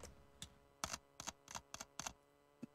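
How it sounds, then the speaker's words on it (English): Keys clack on a computer keyboard as a letter is typed in Microsoft Word: a run of sharp, close, quiet clicks in an irregular rhythm with short pauses between bursts. "we'll type our letter"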